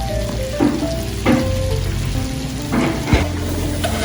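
Onion and garlic sizzle as they sauté in butter in a pan, a steady close frying hiss with a few brief stirring clatters for spicy buttered pork adobo.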